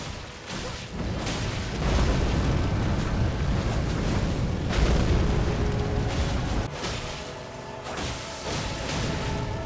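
Fireworks bursting in a video game during a tank-build match, a dense run of booming, crackling explosions layered over one another, loud and continuous across the whole stretch with a few sharper pops.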